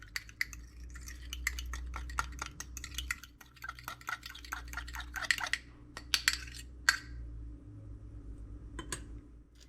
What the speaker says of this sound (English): Just going to stir it up a little bit.